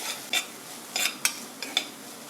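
Onions sauté in a pan for dal tadka with a soft, continuous sizzle, broken by several sharp clinks of a spoon stirring against the pan at irregular moments and no voices.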